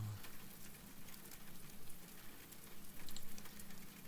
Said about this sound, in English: The rain stick.